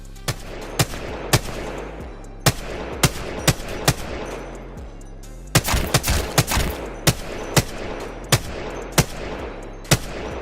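Gunfire in the console shooter Apex Legends: sharp, loud individual shots and short bursts spaced irregularly, including a denser cluster in the middle, over a low background hum, no talking.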